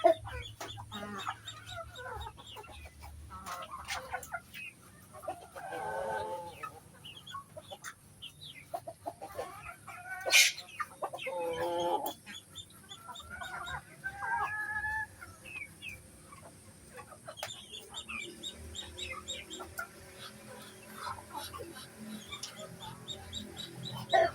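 Chickens cluck and call at feeding time on a rural farm, with ducks and cats nearby, scattered clucks and a sharp rooster-like squawk over quiet background, with faint voices at times.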